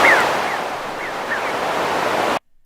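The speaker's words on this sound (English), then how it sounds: "Beach Waves one" Beach waves ambience sample from the MobileMusicPro pack, a steady wash of surf with faint bird cries over it, playing alone and then cutting off abruptly.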